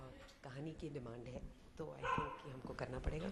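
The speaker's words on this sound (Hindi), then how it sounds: "पीछे कुत्ते भौंक रहे हैं।" Dogs bark in the background behind a house, faint and intermittent, mostly buried under a person speaking continuously in the foreground.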